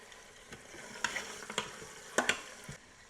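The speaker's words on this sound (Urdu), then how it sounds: "گوشت کو تب تک پکائیں گے جب تک اس کے اوپر ہلکے سے براؤن سپاٹس آ جائیں" Mutton pieces frying in a pot for Pakistani nihari, a soft continuous sizzle broken by several sharp clinks and scrapes of stirring, close by with no talking.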